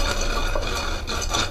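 Pickle spice masala for drumstick pickle being coarsely ground, a steady scraping and grinding texture with light clinking of metal utensils, close and continuous, no talking.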